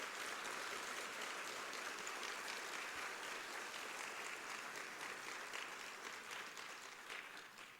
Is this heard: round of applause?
yes